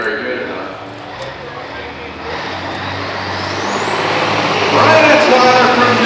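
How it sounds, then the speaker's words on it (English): A 2-stroke Detroit diesel engine revs at a truck and tractor pull, a loud, broad roar whose pitch climbs steadily toward the end, with voices in the background. "we got a 2-stroke Detroit. They're trying to check RPMs on it"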